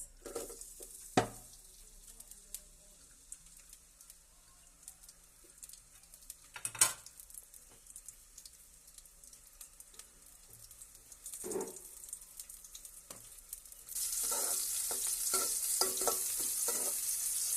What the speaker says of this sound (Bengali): আমি পেঁয়াজটা ভেজে নিব। পেঁয়াজ লাল না হওয়া পর্যন্ত আমি ভাজতে থাকবো।